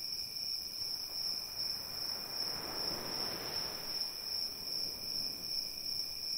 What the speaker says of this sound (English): as if there were crickets chirping in her head